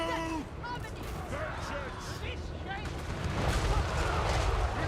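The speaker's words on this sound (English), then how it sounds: "Their cannons are really, really terrifying." Cannon fire in Total War: Warhammer III, a dense battle din of booming shots and crackling bursts that grows louder and more chaotic toward the end, with no speech.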